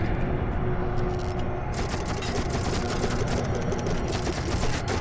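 Dense, continuous automatic gunfire from the shooter game You Are Empty, a steady rattling fusillade filling the whole stretch, loud and close with no voices over it.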